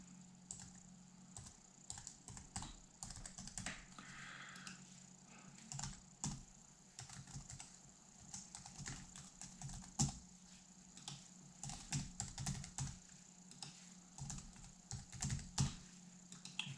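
Quick, uneven bursts of key taps on a computer keyboard while filling in a registration form, close and fairly quiet, with short pauses between runs of typing.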